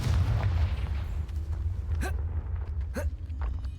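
Confringo blasting curse cast in Hogwarts Legacy, a deep rumbling boom followed by two quick rising whooshing spell bursts with crackling tails, moderately loud over low background game noise.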